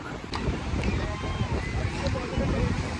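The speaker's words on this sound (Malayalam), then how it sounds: "ഭയങ്കര കാറ്റ്." Strong wind buffets the microphone outdoors in a steady, loud rumble with roaring low-end gusts, while faint voices are heard underneath throughout.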